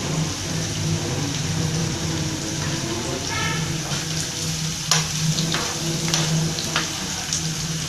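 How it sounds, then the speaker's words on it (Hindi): Onions frying over high heat in a pan while browning for mash ki daal, a steady close sizzle with occasional stirring clicks, and a voice talking over it at times. "तेज़ आंच कर देंगे ताकि प्याज ब्राउन हो जाए।"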